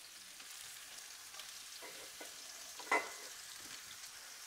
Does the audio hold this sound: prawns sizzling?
yes